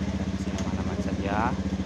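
Honda Beat motorcycle engine runs at a steady idle with a rhythmic low putter throughout, close by and moderately loud, with a brief whirring rise near the end.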